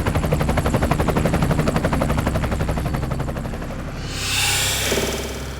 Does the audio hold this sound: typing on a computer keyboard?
no